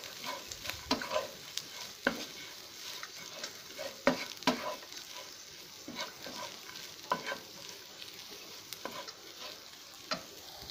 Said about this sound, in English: Now I am adding the cashew pieces. Nicely mix it, and it will get roasted in this hot oil now.